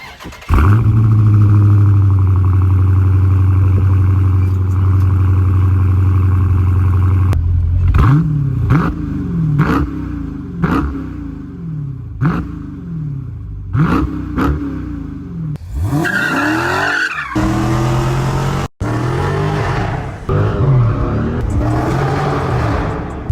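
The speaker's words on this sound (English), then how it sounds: "it's going to come with a pretty kick-ass exhaust from the factory, and let's just hope it has a good start" A 2015 Dodge Challenger Scat Pack's 6.4L engine with factory exhaust cranks and fires into a deep idle, then roars through a series of sharp throttle blips, each rev rising and falling quickly.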